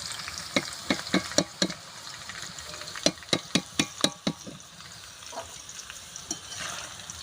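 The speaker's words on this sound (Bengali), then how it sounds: "আমি সমস্ত সবজি আমি একসাথে ভেজে নিচ্ছি" Mixed vegetables frying in oil for fried rice in a rustic kitchen, with a sharp run of rapid spatula clacks against the pan over a continuous sizzle, then a quieter stretch of frying with a few scattered scrapes.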